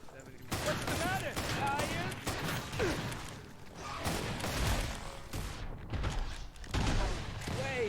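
Rapid gunfire from a Winchester 1894 lever-action rifle in the video game Killing Floor 2, loud and dense shots and mechanical clatter throughout, mixed with game effects and a voice talking over it.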